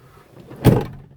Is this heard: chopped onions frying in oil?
no